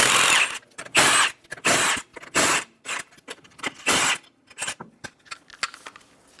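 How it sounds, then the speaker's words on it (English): Lug nuts come off the front wheel of a Chevrolet Sonic under a 19mm socket on a power tool, a series of sharp, loud close bursts of whirring and rattling separated by short pauses. "remove the 5 lug nuts."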